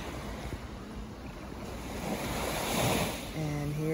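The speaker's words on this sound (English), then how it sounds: "I just love the sound of the water." Ocean surf washes steadily onto a beach at St Thomas in the Virgin Islands, a continuous broad rush with gusts of wind noise and a faint brief tone near the end.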